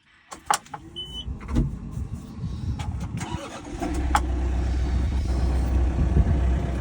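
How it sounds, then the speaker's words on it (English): Clicks and clunks give way to a John Deere 4066R tractor engine turning over and settling into a steady low rumble, idling and starting to move. "So now I can move the tractor forward after putting my links away."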